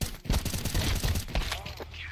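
Video game gunfire rings out during a competitive league match as a dense burst of loud shots fires in quick succession, with a fast rattling sound throughout.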